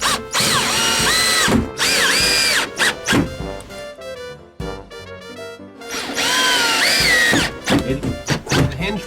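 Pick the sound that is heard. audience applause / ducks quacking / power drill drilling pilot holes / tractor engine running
power drill drilling pilot holes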